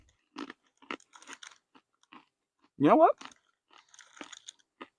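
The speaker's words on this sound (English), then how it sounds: "Some of the dry papaya is a little crunchy, and the other fruit is soft and sweet." Dried MRE mixed fruit (mango, papaya, banana), the papaya slightly crunchy, is chewed close to the mic in soft, scattered crunches, while a voice speaks briefly partway through.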